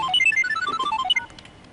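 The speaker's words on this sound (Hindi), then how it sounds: "यार, इस वक्त किसका फोन आ गया?" A phone ringtone in a Pakistani comedy film plays a quick, bright melodic jingle of rapid chiming notes, close and clear, then cuts off abruptly.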